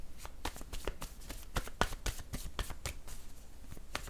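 Word cards being shuffled for a card reading: quick, soft riffling flicks and taps in a rapid irregular rhythm, close and quiet, with no voices.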